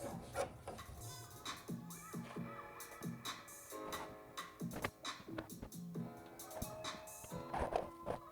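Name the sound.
scrubbing wooden dresser with steel wool and mineral spirits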